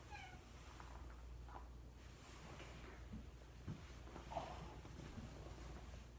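A pet cat named Roger meows a few times, faint and somewhat distant, over a steady low background hum with no speech.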